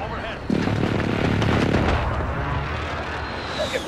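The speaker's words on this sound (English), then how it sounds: "Allied precision airstrike in guarding B" An allied precision airstrike in a video game lands as a loud, rumbling barrage of blasts and booms that swells, holds for about a second and a half, then rolls off into a lingering roar.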